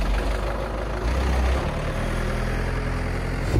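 The engine of an old motorhome with 260,000 miles runs rough in a steady, low, rumbling drone, heard close without speech.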